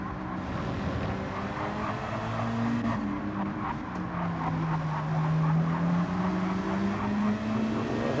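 Racing cars braking into a corner at Suzuka in a video game race, a dense roar of several engines sweeping down in pitch as the drivers slow, loud and continuous with no talk.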